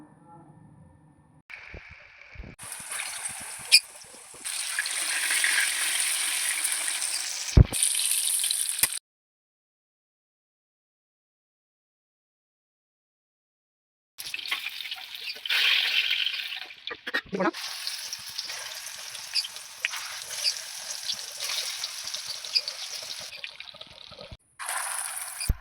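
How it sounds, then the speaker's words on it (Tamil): Vadas made from mothakendai fish fry in hot oil: a bright, continuous sizzling hiss, close by, with faint voices at the start and a pause of near silence midway before the sizzling resumes. "இந்த சைடு 5 நிமிஷமும் அந்த திருப்பி போட்டு ஒரு 5 நிமிஷமும் பொரித்து எடுத்துக்கலாம்."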